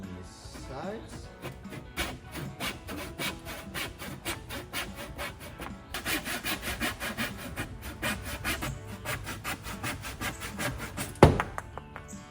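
A handsaw cuts down the sides of a wooden bow stave made from a log, with rapid, even back-and-forth strokes that run steadily up close after a brief opening scrape.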